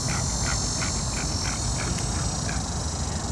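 A bird calls outdoors with a fast train of short, quack-like pulses that fade toward the end, set against a loud, steady noisy backdrop.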